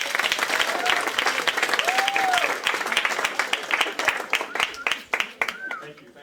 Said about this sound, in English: can we please give a round of applause to Mr.